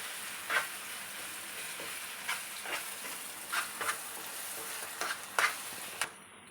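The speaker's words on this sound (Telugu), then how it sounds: "ఇప్పుడు ఆయిల్లో కాసేపు దీన్ని వేయించుకోవాలి" Raw mango chutney with dried red chillies frying in hot oil, a steady close sizzle with occasional stirring scrapes and pops.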